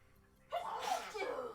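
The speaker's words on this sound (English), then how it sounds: "I apologize for her sneezing in the background so much" A woman with allergies lets out a single quiet sneeze after a brief near-silence, a short breathy burst that trails off, heard faintly in the background of an indoor room.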